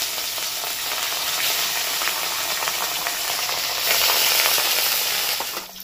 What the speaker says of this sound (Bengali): এইবার এগুলোকে এক এক করে ভেজে নেবো, কড়া করে ভাজবো